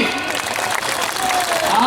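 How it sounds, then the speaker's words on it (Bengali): Applause from an audience at a football academy event, dense and steady throughout at a loud level, with crowd noise and voices mixed in. "আর সুমন ভাইয়ের জন্য বড় বড় তালি"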